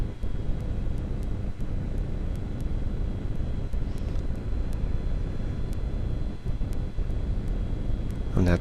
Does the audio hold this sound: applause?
no